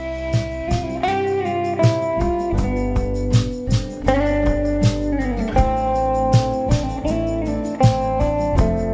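Guitar solo played over a four-chord backing progression: melodic lead notes and bends ride on top of steady chords and bass for about nine seconds, with no voice heard.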